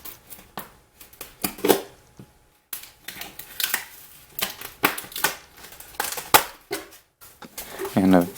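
Packing tape and plastic ties on a boxed Wen 4208 8-inch 5-speed drill press are pulled and torn, giving irregular crinkling, ripping and rustling bursts close by, with some faint movement noise between them.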